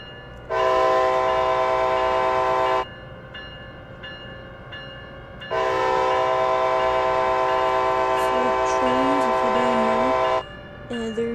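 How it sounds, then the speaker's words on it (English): Two long, loud blasts of a locomotive horn in the train simulator game Train Sim World, the first short and the second held for several seconds, with faint rumbling and mechanical sounds between them. "now we're gonna start blasting the horn a little bit."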